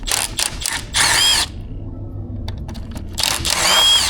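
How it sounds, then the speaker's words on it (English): Ratchet with a 5.5 mm socket unbolting ignition coils from an engine module, close-up: several quick clicking bursts, a pause with faint ticks, then a final longer run of ratcheting. "We unbolt the coils"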